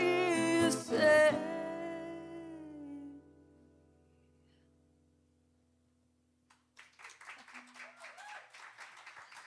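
A small audience at Dee's claps after a live song: a last sung note and guitar fade to near silence, then a few seconds of scattered clapping, softer than the music.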